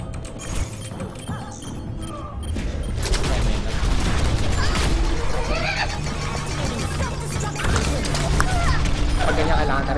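D.Va's self-destruct blast in the video game Overwatch, a loud sustained roar of explosive noise filling the mix amid busy game sounds, with people talking over it.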